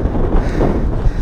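Seaside wind buffeting a skater's microphone on a beachfront track in Greater Florianópolis, a steady loud roar with gusty swells and no voices.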